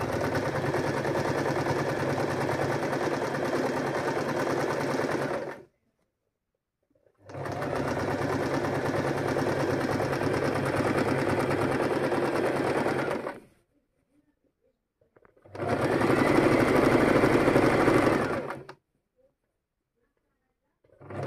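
A sewing machine stitches fabric edges in three long, steady bursts of rapid, loud mechanical chatter, each several seconds long and separated by short pauses of silence.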